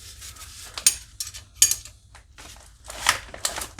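Copper 1/4-inch brake line being crushed in a double flaring tool, giving a series of close metallic creaks, scrapes and ratcheting clicks in irregular bursts with short pauses, no talking.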